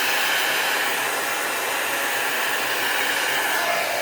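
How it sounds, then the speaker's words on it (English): Heat gun blowing hot air to emboss alcohol ink artwork, a steady loud broadband whoosh running without a break, close and alone with no talking. "You can also sort of pull your heat gun off for a second and do it again."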